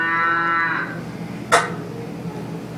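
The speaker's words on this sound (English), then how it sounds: "Milking the cow." A cow on a farm gives one drawn-out, harmonic moo lasting under a second, followed by a short sharp knock against a low steady background hum.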